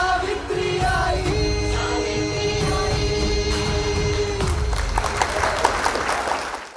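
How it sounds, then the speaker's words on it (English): Audience applause follows a students' performance at a school Guru Purnima celebration. It swells over the tail of the music and then carries on alone as a dense, steady clatter of many hands clapping. "Give them a huge round of applause, please."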